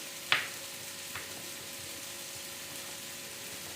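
Mint chutney with chopped tomatoes sizzling in a pan: a sharp clink near the start, then a low, steady frying hiss with a soft knock, quiet and close, no talking.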